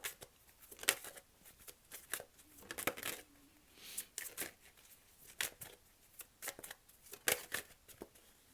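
Tarot cards shuffle and snap in quick, uneven bursts of riffles and taps, close and fairly soft, before a few cards are drawn, with no voice.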